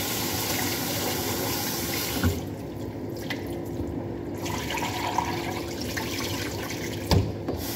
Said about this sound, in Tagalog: huhugasan ko na itong bigas.